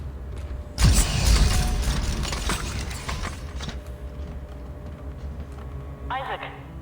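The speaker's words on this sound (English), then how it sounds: "Closing hatch." A heavy mechanical hatch in the video game Dead Space 2 closes with a loud creaking, grinding clank that trails off over several seconds, followed by a brief bit of speech.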